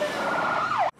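Ambulance siren wailing in a steady high tone that dips near the end before cutting off abruptly.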